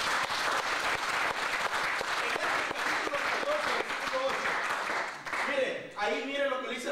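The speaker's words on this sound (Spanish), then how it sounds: "Denle un aplauso al Señor." A church congregation applauds in a continuous wash of clapping for about five seconds, then a preacher's voice takes over.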